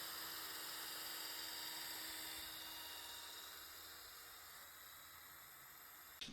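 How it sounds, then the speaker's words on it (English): A steady electric whirring hum of a power polisher restoring foggy camper van headlights runs throughout, with a faint hiss, easing slightly in pitch toward the end. "This is the polisher,"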